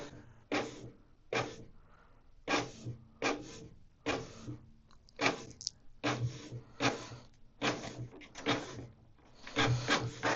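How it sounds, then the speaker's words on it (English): Rhythmic mechanical bursts of a Canon Pixma MG3650S inkjet printer printing a page, repeated carriage passes with short pauses between them, close by and moderately loud. "wait for the paper from the printer. It's gonna print the information for you."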